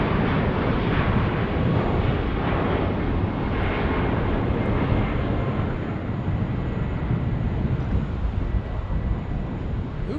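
A Delta airliner in SkyTeam livery, arriving from Seattle at Phoenix Sky Harbor, gives a loud, steady jet engine roar that holds for the full stretch with no talk.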